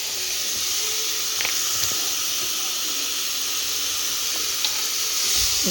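Ginger garlic paste sizzles steadily in a hot pan while egg biryani is being cooked, a continuous hiss with a few faint clinks over it and no talking.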